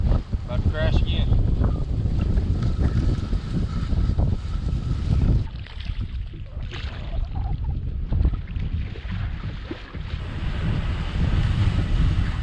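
Strong gusts buffet the microphone on a lake while fishing from a small paddled boat, a loud continuous roar with rumbling bursts and a brief lull midway.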